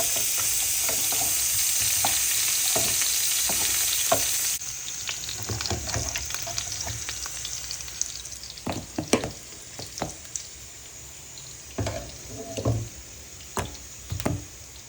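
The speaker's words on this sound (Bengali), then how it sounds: "আর এদিকে একটু কাটা আলুগুলোকে ভেজে নিব" Cut potatoes with salt and saffron colour frying in a pan for biryani, a loud continuous sizzle at first that then gives way to quieter frying broken by sharp scraping and knocking of a spatula.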